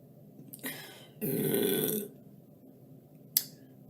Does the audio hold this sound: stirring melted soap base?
no